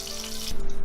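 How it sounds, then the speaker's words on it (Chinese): A pork chop sears in a hot pan, browning lightly on one side before being flipped; a steady, close sizzle hisses through the short moment and then shifts and crackles as the meat moves. "一面煎到有一点点金黄了，就给它翻另外一面煎"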